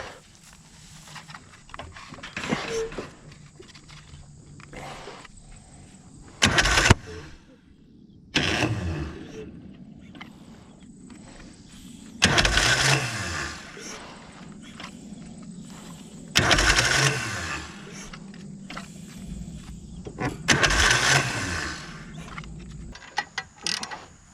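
A racing lawn mower on a trailer gets repeated start attempts: several bursts of cranking and brief engine catches separated by pauses with quiet clicks and handling noises, close and loud.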